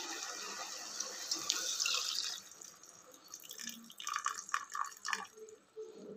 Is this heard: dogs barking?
no